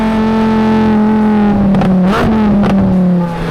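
Italian supercar, a Lamborghini Huracán STO or Ferrari 458 Speciale, its engine held at high revs with a loud, steady tonal howl, briefly dipping and rising mid-burst before settling, heard close and alone.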